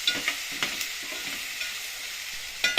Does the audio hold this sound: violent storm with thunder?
no